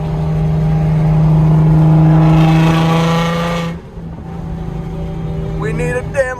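An Infiniti G37 with a freshly swapped engine runs steadily and fairly loud, a constant hum and drone that falls away midway, then settles back to a quieter idle with brief higher sounds near the end.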